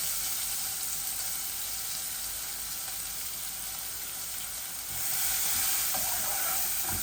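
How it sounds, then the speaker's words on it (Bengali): Onion sizzles in hot oil with eggs in a pan, a steady bright frying hiss that grows slightly louder and busier as the ingredients are stirred in. "এখন আমি ডিমর মাঝে পেঁয়াজ দিলাই আর।"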